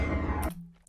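A punchy impact sample from a sound library, built for a kick drum, with a heavy low sub body for about half a second, then a sharp cutoff into a thin, faint tail with a few small ticks.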